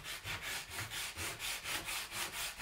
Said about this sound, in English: So let's get this one more side sanded real fast